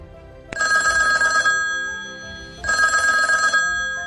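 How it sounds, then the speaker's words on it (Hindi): A custom ringtone built around a person's name plays from a phone, sounding as two bright, tonal bursts of roughly a second each with a short pause between them, clear and close with no talking. "तो अभी हम इसे सुन के देखते हैं कि वाकई में अपनी रिंगटोन बन चुकी है,"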